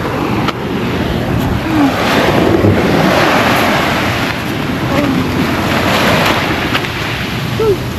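Ocean waves on the shore at a beach on Mindoro, a loud steady roar of surf with heavy wind buffeting the microphone throughout, and no clear talk.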